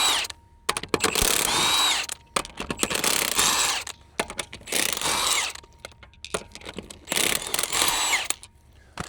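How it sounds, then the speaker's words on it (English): An impact wrench rattles off wheel lug nuts on a Polaris Xpedition side-by-side, loud close bursts of hammering whirr lasting about a second each, separated by short quiet gaps. "let's pull the wheel off. Now, I'm using an impact"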